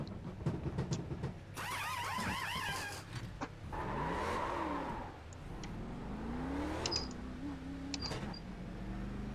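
In the iRacing sim, an ARCA race car pulls out of pit road at Atlanta Motor Speedway, its engine revving and rising in pitch through several gear changes, with faint electronic chirps late on and no talking.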